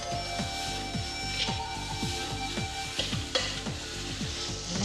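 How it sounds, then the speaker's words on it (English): Steady sizzling of ground candlenuts, fresh turmeric, diced shallots, garlic and blended chilli frying in hot oil, with a rhythmic repeating clatter of stirring running throughout. "starts by frying ground candle nuts, ground fresh turmeric, diced eschalots, garlic and blended chilli"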